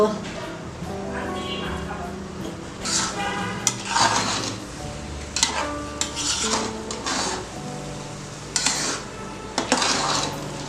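A spoon scrapes and clatters against a pot as khichuri rice is stirred and sautéed, with soft sizzling beneath, repeated metallic knocks at intervals, and someone talking throughout.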